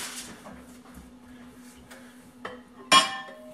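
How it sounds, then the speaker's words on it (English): A casserole lid goes onto a dish of one-pot chicken and rice, making a single sharp clink near the end after faint, quiet kitchen clatter, with no voices. "I'm going to get my casserole lid. Boom. Put that on it."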